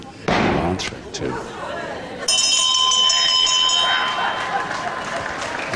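A timekeeper's round bell rings out at a televised professional wrestling bout, a loud sustained metallic ring over a noisy crowd and a commentator's voice.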